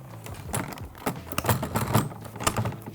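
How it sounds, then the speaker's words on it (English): Several sharp plastic clicks and clattering handling noises close by from the blue flap of a Dräger BG ProAir breathing apparatus, irregular and overlapping, over a steady low hum. "You hear the clicking of the blue flap."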